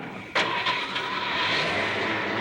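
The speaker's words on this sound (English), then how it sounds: "rev it up. Revving up, revving up." Engine revving in a comedic horror-show laboratory scene, a sudden loud surge of motor roar that kicks in and holds steady, close and alone, for a couple of seconds.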